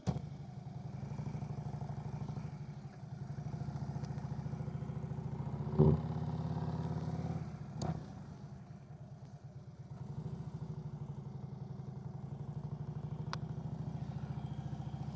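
A motorcycle idles and creeps through a slow-speed U-turn, its low engine note steady and close, with a brief clunk and a short rev partway through before settling back to a quiet, even putter.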